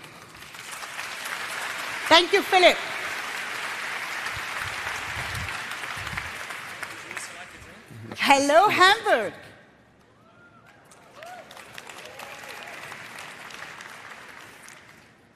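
Conference audience applause at an online marketing event in Hamburg swells in a couple of bursts and fades, with a speaker greeting the crowd over and between the clapping.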